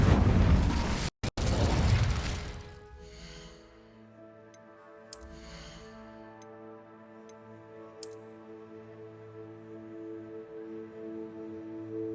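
Incendio fire spell cast in the Hogwarts Legacy video game: a loud whooshing burst for about two seconds, then fading into sustained tonal game music with faint ticks and soft pulses.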